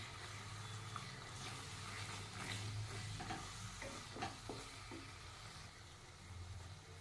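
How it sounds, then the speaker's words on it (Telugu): Spiced curry mixture with masala, coriander and cumin powders being stirred in a frying pan for a dhaba-style okra curry, a steady low sizzle with soft scraping strokes of the spoon, close and continuous. "ఇవన్నీ మంచిగా కలుపుకోవాలండి."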